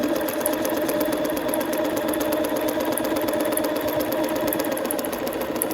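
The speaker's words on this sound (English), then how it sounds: "we're just going to sew down this pink line. I'm going to increase the speed" A sewing machine runs continuously without thread along a printed pink practice line at increased speed, a close, steady rapid mechanical whir and clatter with no pauses or talking.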